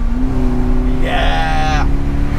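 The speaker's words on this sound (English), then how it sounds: "I'm going to drive and we'll downshift now. Listen." A BMW 745i E65 with an exhaust cutoff valve installed is driven on an urban street, a steady engine drone swelling into a brief rising rev as it downshifts, then settling back, close and fairly loud.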